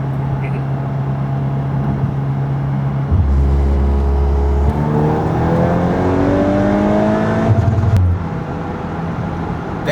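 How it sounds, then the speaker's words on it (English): A VW Mk8 Golf R running on ethanol with a Unitronic UniFLEX and MPI setup revs hard and climbs up to the rev limiter, the engine loud and close, with people talking before and around it. "So I just hit the rev limiter there."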